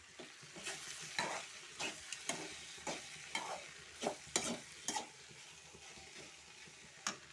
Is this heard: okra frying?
yes